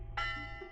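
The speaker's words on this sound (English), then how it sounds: "the bell in the center of campus begins to ring" A campus bell rings out in a visual novel game, one bright metallic strike at the start that keeps resonating with a sustained, shimmering tone, loud and close over a low background hum.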